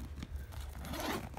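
A metal-toothed zipper on the inner pocket of a TWELVElittle On-The-Go backpack rasps open in a short, close scratchy pull that grows louder toward the end.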